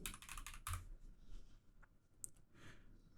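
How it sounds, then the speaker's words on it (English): Someone types on a computer keyboard, a quick, soft run of close key clicks with short pauses between clusters. "I'm going to type in evolution."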